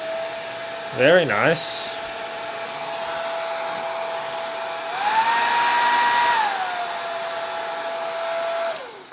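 A hair dryer runs on its heat setting with a steady, loud whirring blow that briefly shifts higher in pitch partway through before settling back. A short spoken remark comes near the start, and the sound cuts off sharply at the end.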